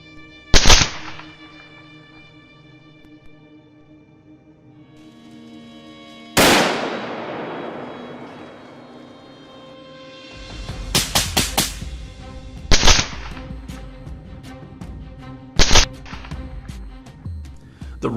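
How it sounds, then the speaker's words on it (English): Shots from an AR-10 rifle fired during a coyote hunt crack out as a few sharp, loud reports spaced several seconds apart, each trailing a short echo, with faint outdoor movement in the quiet gaps between them. "The rifle was an AR-10"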